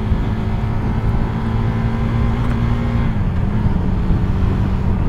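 KTM Duke 390 (2021) motorcycle engine pulling steadily in fourth gear at low revs, a continuous loud drone with wind noise, heard from the rider's position, no talking.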